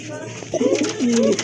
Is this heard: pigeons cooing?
yes